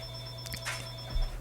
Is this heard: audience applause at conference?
no